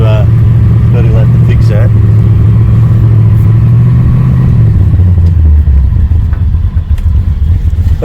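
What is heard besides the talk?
Holden HZ with LS engine swap revving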